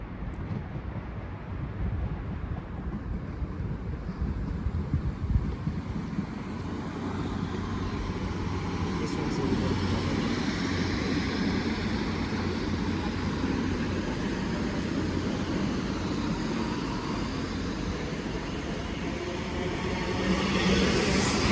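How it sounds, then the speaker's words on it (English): A passenger train bound for Southport rolls into Wigan North Western station, a steady low rumble with rising wheel and track noise building and holding throughout, no voices. "we got another one coming in, and this train is going to Southport"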